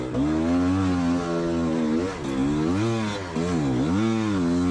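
A GPX motorcycle on a cross-country enduro course at Spaunton Quarry revs hard as its back wheel spins up, the loud engine note rising and falling in repeated surges, close and continuous.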